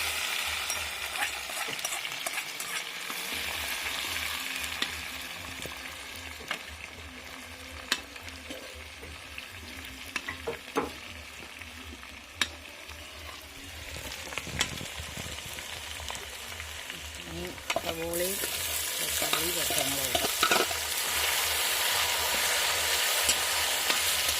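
Crushed ginger and garlic fry in oil for a beef curry over a wood-fired stove, a dense steady sizzle with scattered crackles and occasional stirring scrapes, close up.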